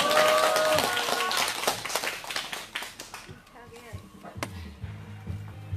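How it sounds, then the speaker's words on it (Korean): Crowd clapping at an outdoor Wednesday protest rally in Soseong-ri, a dense burst of hand claps for about three seconds that then thins out as voices and other sounds take over. "힘찬 박수 부탁드리겠습니다."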